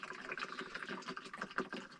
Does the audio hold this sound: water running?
yes